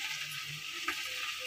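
Hot oil with browned garlic and chili tempering sizzles steadily as it is poured into yogurt rice khichdi (maher), a continuous close frying hiss with a small burst partway through.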